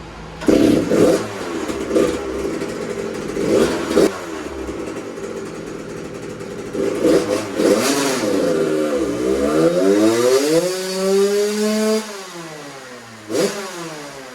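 A 2001 Suzuki RM 80 dirt bike fitted with an FMF Shorty silencer revs loudly on a dyno, first in several short throttle blips, then in one long climbing pull that drops away, followed by a final quick blip.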